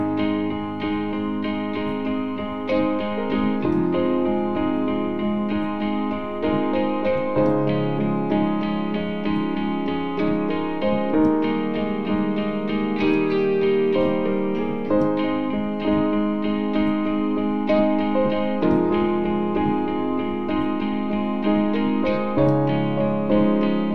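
Piano playing the verse of a song in an advanced arrangement, a continuous, full and fairly loud flow of sustained chords and melody with no talking.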